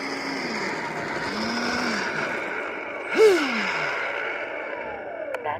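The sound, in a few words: E-flite F-15 Eagle 64mm RC jet ducted fan motor running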